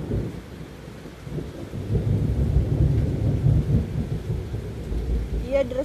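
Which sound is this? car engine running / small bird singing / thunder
thunder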